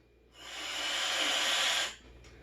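Airy draw through an RPM2 vape device: a single steady hiss of air pulled through the mouthpiece, rising in, holding for about a second and a half, then cutting off, close and fairly soft.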